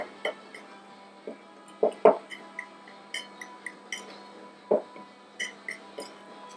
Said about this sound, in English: we're just going to give that guy a little whisk up so everything gets mixed in nice and good